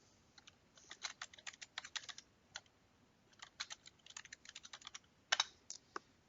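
Faint, rapid keystrokes on a computer keyboard as a property entry is typed into a software configuration table, coming in irregular bursts with a few louder taps near the end.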